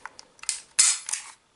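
The trigger of a Röhm RG 96 blank pistol is pulled in double-action mode, giving a few quiet mechanical clicks and then a sharp metallic snap of the hammer falling, close and dry.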